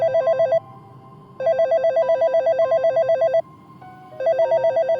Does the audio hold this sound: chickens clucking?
no